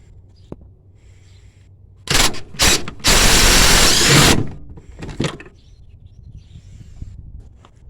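A ratchet fitted with a swivel and extension works a bolt loose on a Ford Crown Victoria during front strut and sway bar work, giving sharp clicking bursts, then a sustained loud rasping stretch, then scattered clicks fading to quiet.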